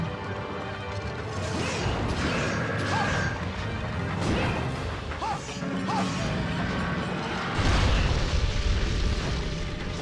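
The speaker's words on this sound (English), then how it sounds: "That was a lot of explosions." Continuous rumbling blasts and crashing debris with metallic clanks in Monster Hunter Tri on Wii, swelling into a heavier booming explosion near the end.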